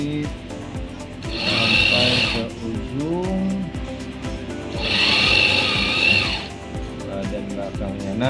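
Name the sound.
sewing machine stitching a women's blouse seam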